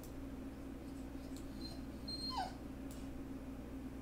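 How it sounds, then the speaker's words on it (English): Faint high whimper from a dog, a brief rising whine near the middle over a steady low hum in an indoor room. "My dog might not be so happy"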